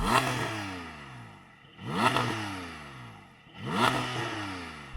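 A Porsche GT4 sports car engine revs hard three times in a row to about 5,000 RPM, each rev rising to a loud roar then dropping back to a lower idle.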